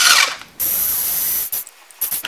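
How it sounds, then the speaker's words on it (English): A small power screwdriver removing screws from an Arrma Felony RC car whirs in short bursts, a high steady whine that stops and restarts, close up with brief pauses between runs. "while a power tool like this roto bit can be your best friend"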